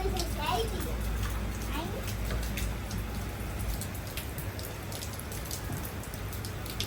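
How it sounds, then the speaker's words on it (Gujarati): Heavy rain pours steadily and continuously, a dense near hiss of drops on surfaces that fills the whole stretch, with voices faintly mixed in during a downpour at home near a rooftop terrace. "બહુ વરસાદ આવે ને"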